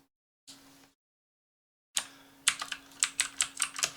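Someone types on a computer keyboard to rename a part in design software: a short burst near the start, a pause, then a longer run of distinct, close keystrokes in an uneven rhythm, with no talking.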